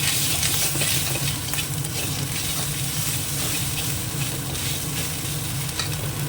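Prawns, already fried red, sizzle loudly in hot oil as ginger paste and turmeric are stirred in, a dense steady hiss with scraping stir sounds close by.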